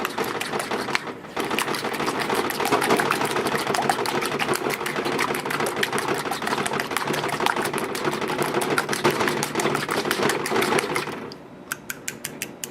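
Eggs for French toast batter are whisked briskly in a bowl, a dense fast rhythmic clatter, close and steady for about eleven seconds before it slows into a few separate taps.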